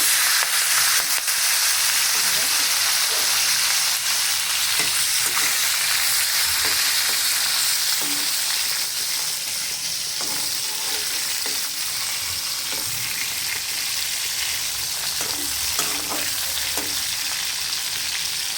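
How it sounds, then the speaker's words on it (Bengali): Hilsa fish heads fry in hot oil in a pan, a continuous dense sizzle with occasional soft scrapes and taps from stirring. "হালকা করে একটু ভাজা ভাজা দেওয়া লাগবো, দিয়ে তারপরে এটা মিষ্টি কুমড়া দিয়ে রান্না করা হইবে"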